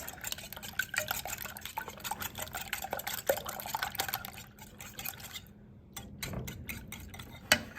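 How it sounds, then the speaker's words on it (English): Eggs are whisked in a bowl with quick, light, irregular clicks and taps of the whisk against the side, steady for several seconds with a short pause before it resumes. "Now the first thing we're going to do is whisk up your eggs."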